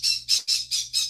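A pet bird gives five loud, harsh squawks in quick succession, each a short raspy burst with brief gaps between, close to the listener with a faint low hum beneath.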